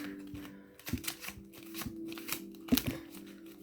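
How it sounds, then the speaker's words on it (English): A deck of tarot cards is shuffled by hand in a quiet room, giving a few close, crisp riffles and soft slaps of the cards in short irregular bursts. "Just going to shuffle these a little bit better."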